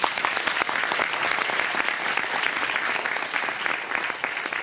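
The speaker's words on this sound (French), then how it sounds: "Vous pouvez à nouveau les applaudir." A festival audience at a film screening applauds the producer, cinematographer and actress, with dense, loud, sustained clapping from a large crowd that carries on unbroken to the end.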